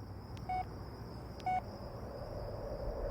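Two short dial-tone beeps from a phone being dialed, spaced about a second apart over a quiet background hiss.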